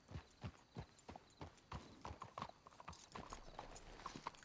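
Horse hooves clip-clop steadily in a Red Dead Redemption 2 game scene, a close, rhythmic trotting of several beats per second, with faint game ambience beneath and no talk over it.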